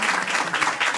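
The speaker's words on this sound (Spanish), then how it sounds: "Un fuerte aplauso." Applause from the audience at an international seminar on language revitalization, a brief, fairly loud burst of steady clapping from a gathered crowd.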